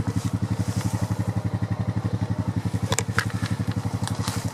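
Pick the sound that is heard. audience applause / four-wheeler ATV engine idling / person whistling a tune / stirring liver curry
four-wheeler ATV engine idling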